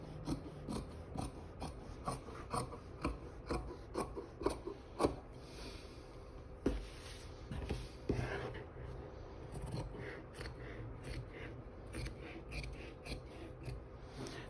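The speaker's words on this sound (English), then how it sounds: "I'm gonna go ahead and cut along all of those yellow lines that I did with my chalk" Scissors cutting through denim fabric along chalked lines, a long run of close, rhythmic rasping snips and scraping strokes with occasional louder chops and no speech.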